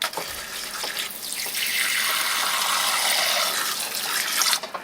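Water running from a tap into small 2-ounce containers for hatchling ball pythons, a close splashing rush whose pitch rises as the cups fill, lasting a few seconds before cutting off.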